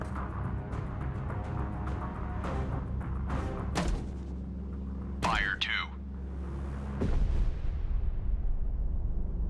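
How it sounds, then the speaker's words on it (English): Depth charges fire and explode in Destroyer: The U-Boat Hunter, a naval combat game, with dull booming bursts and a rising pop around the middle, heard under radio-style voices calling orders. "Ready depth charges. Shallow pattern."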